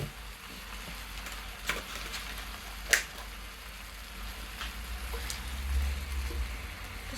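Butter sizzles and fries with steak in a hot frying pan for a Chaliapin steak don, a steady crackling hiss throughout with occasional louder pops and spatters, close and fairly quiet, with no talking.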